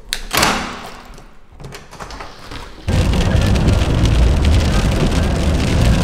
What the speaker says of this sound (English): The time has come for me to say goodbye just as the rain's coming.